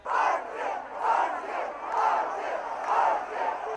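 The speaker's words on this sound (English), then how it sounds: "Out front, the crowd is howling for the Dark Lord himself," A large crowd at the Sting 2003 dancehall clash howls and roars for Bounty Killer, rising and falling in loud repeated surges with no talk over it.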